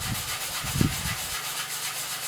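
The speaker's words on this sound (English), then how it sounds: "So I'm going to just sand that the loose stuff off." Sandpaper rubs over sun-damaged, failing clear coat on a car panel in short, close scraping strokes that stop partway through, over a steady background hiss.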